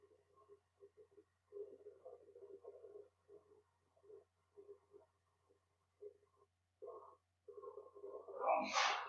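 Muffled, intermittent talk runs along quietly, then a single loud, sharp sneeze bursts out near the end.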